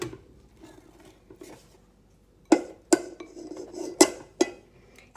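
Spoon scrapes and clinks against a bowl as cooked rice for a yakitori meal is served, several sharp close knocks and taps in an irregular rhythm after soft shuffling.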